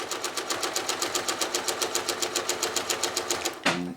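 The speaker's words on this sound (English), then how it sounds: "So I'm going to stitch around the outside of the cloud" A domestic sewing machine stitching free-motion quilting around an outlined cloud on a quilt panel, running at a fast even rhythmic chatter close by, then stopping abruptly near the end with a short mechanical clunk.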